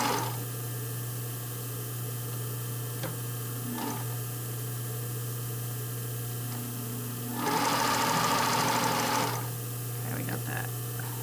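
A sewing machine stitches lace onto a panty in a quiet indoor setting, with a steady low motor hum and a short louder burst of rapid stitching partway through.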